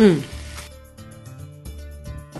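Mixed vegetables such as beans, cabbage and green chillies sizzling in a hot pan for mixed veg noodles, a steady fry with a brief sharp hiss at the start and a voice talking over it.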